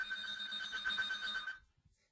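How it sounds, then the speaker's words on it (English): A secondary mobile phone rings during a presentation, giving a steady electronic trill for about a second and a half before cutting off into silence. "I didn't follow my instructions and turn off my secondary phone"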